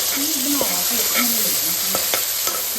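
Tomatoes sizzle in a frying pan, a steady bright crackle close by, broken by a few sharp scraping stirs of a utensil against the pan.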